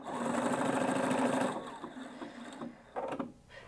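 A Husqvarna Viking Brilliance 75Q sewing machine runs at a steady whir while stitching a pattern, then slows and stops, followed by a few soft mechanical clicks.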